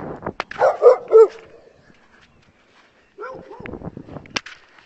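A few sharp dog barks and yips ring out close by on a Hong Kong beach, followed by a short quiet gap and then more scattered barking mixed with faint whimpers.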